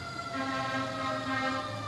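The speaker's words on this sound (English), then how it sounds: "Oh, there's the fire engine. You see it back there." A fire engine siren wails steadily in the distance, a sustained tonal howl holding across the moment with low traffic rumble beneath and no talking.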